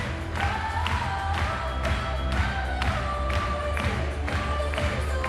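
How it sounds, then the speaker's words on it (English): Crowd at a cheerleading championship claps along in rhythm to a song, steady loud applause with cheering throughout, music underneath. "Everyone's clapping."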